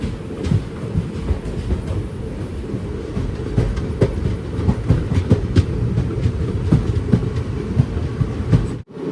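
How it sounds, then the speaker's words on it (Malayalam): The Thiruvananthapuram–Mangaluru Eranad Express runs toward Tirur, with a steady loud rumble of rail wagons and repeated clickety-clack wheel knocks that cut off abruptly at the end. "ട്രെയിൻ ഇപ്പോൾ തിരൂരിലേക്ക് ഇതാ എത്തുകയാണ്."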